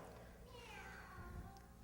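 A cat meows as a sound effect in an old radio comedy, one faint drawn-out mew heard through hissy, muffled broadcast noise.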